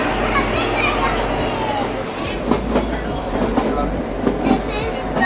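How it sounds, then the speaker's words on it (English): The Shimla toy train rumbles at a railway station with steady rolling noise and intermittent clicks and clanks, while people talk and children call out nearby. "We are getting the first look of the toy train."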